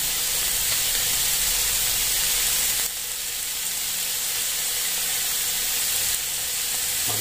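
Oyster sauce sizzles in a hot pan, a loud dense hiss of frying that continues throughout with a slight drop and return in intensity.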